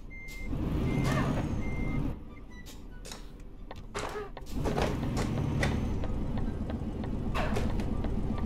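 Truck reversing alarm in Euro Truck Simulator 2 on a DAF XG+, a steady series of high electronic beeps over a rumbling engine, with a brief hiss of air brakes midway.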